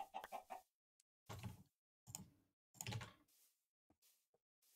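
Chicken clucking in the video game Minecraft, several short clucks in uneven bursts with gaps of silence between them, clear and close with no talking.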